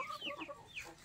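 Rhode Island Red chickens cluck softly on a farm range, a few faint, quick chirpy clucks and calls close together over a quiet background.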